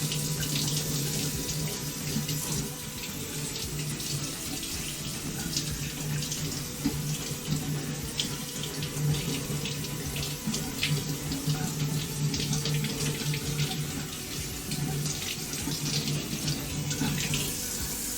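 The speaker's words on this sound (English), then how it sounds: "I'm gonna give these a rinse off because they've been in the fridge a minute." Tap water runs steadily into a kitchen sink for a long stretch as ingredients are rinsed under it, a loud continuous splashing rush with small shifts as items move through the stream.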